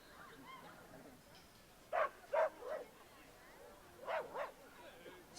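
Jack Russell Terrier at a team pentathlon speedstakes dog agility event, giving a few sharp barks in two short bursts amid arena crowd noise and a commentator's voice.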